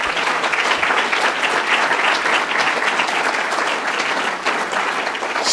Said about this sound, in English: I think that certainly deserves a round of applause.